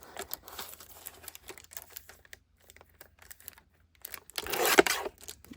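Vintage book paper being trimmed for a junk journal: quiet, irregular snips and rustles, ending in a louder burst of cutting and tearing paper.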